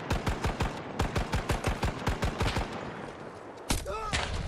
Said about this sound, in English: on top of the building, sniping away, of course.